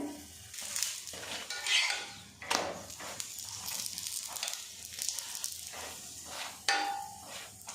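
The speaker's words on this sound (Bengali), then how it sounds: "এইভাবে লেয়ার করে আপনারা পরোটাটা ভাজবেন" A paratha brushed with oil frying on a pan, soft sizzling broken by spatula scrapes and metallic clinks against the pan in an uneven rhythm, close by and fairly quiet.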